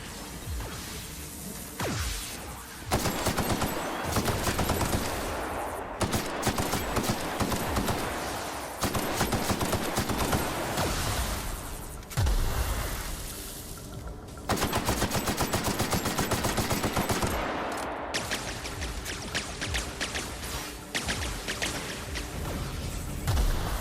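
Rapid bursts of gunfire from a shooter video game set in The Outer Worlds, dense and loud, firing in repeated volleys with short gaps between them during a fight against robots, with no talking.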